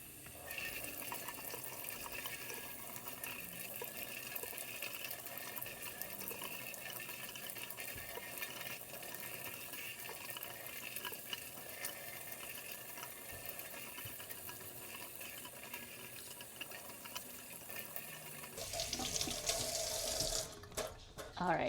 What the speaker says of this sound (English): I'm just rinsing them because I don't know how well any soap would rinse out of these